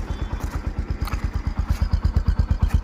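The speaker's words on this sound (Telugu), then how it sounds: "ఇంజిన్ స్టార్టింగ్లో పెట్టాను. రేజ్ ఫుల్లో చేసి పెట్టాను, 60 వరకు రేజ్ చేశాను" A 2018 Bajaj Discover 125 motorcycle engine runs close by with a steady, even chugging pulse, a rapid regular thump with a light mechanical clatter and no clear rise in pitch.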